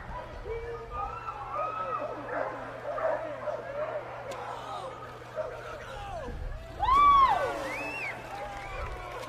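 A dog yips and whimpers at a dock jumping event, its calls rising over crowd noise with a louder burst of barking near the end.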